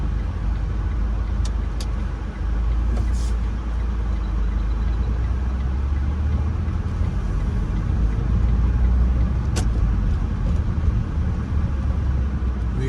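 A car rolls slowly through city streets at about twelve miles an hour, its steady low engine and road rumble continuous throughout, with a couple of faint brief clicks and no voices.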